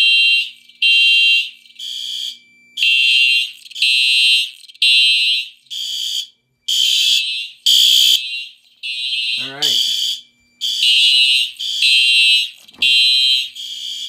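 Fire alarm horns sound in loud, regular pulsed blasts after a pull station is activated, with steady repeated bursts throughout and a brief voice passing beneath them.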